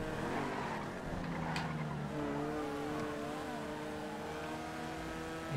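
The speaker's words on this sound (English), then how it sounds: "This is not as quick as vanilla GTA Stinger." A Stinger sports car in GTA FiveM revs and accelerates with a steady rising engine drone, some tyre noise mixed in, heard fairly faintly and continuously with no talking.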